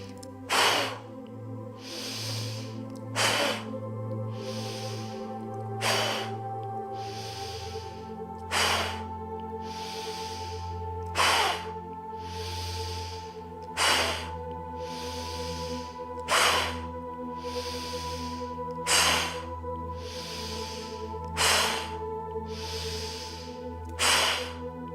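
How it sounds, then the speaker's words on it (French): Forceful yoga breathing: a sharp, powerful exhalation bursts through the nose roughly every two to three seconds, steady and close, over a low sustained musical drone. "on expire de façon puissante"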